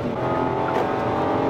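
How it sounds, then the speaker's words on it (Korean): Kia Ray one-seat van with a 1-litre inline three-cylinder MPI petrol engine accelerating hard onto a highway, a loud, steady, buzzy engine drone heard from inside the cabin with no talking. "엔진 소리가 좀 시끄럽게 올라오죠. 직렬 3기통 엔진이죠."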